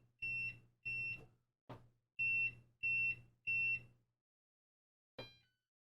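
A 2NICE WT10 robot vacuum cleaner emits a run of short electronic beeps, six evenly spaced tones in a quick rhythm, then a pause before one last brief chirp, all close and clear in a quiet room.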